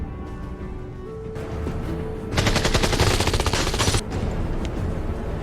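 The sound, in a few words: gunfire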